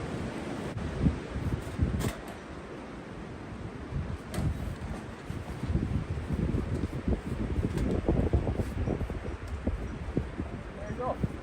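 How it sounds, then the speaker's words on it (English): Strong wind gusts buffet a winter canvas hot tent, a steady rushing roar with flapping and rustling bursts throughout, heard close and loud while people talk briefly. "A lot of wind."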